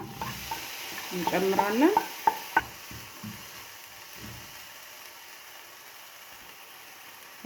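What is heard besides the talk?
onions frying in a pan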